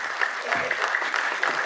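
Audience applause for producer Vinod Bhanushali at a film trailer launch, a short burst of steady, fairly faint clapping from a crowd with no talk over it.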